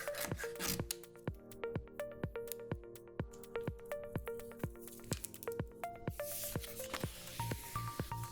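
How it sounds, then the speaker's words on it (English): Cut vinyl sheet being weeded and trimmed by hand, giving a steady series of soft, sticky peeling and snipping ticks with faint tonal squeaks, close and quiet, with no talking. "We can go ahead and start weeding and trimming the sheet."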